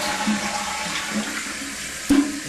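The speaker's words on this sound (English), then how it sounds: "I'm going to let it flush all the way this time." A household toilet flushing fully, a continuous rushing and gurgling of water with a sharp clunk near the end, close and alone.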